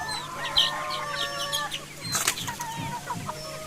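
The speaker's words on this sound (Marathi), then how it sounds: "ऑलमोस्ट सगळी छोटी कोंबडीच आहेत राहिलेली." Young village chickens clucking and chirping in a traditional backyard poultry flock, a burst of wing flapping breaking in midway before the soft calls resume.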